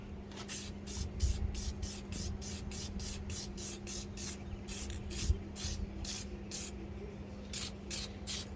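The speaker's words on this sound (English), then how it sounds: "So we'll shoot her with some air filter foam oil." Air filter foam oil sprayed from an aerosol can onto a foam turbo air filter in a cramped engine bay, a rapid series of short, close hissing spritzes in a regular rhythm, no talking.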